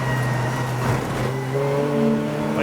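Golf TDI race cars thunder down the Bentley Straight at Snetterton during a Roadsports race, a loud, sustained engine drone with rising revs as the cars accelerate close by.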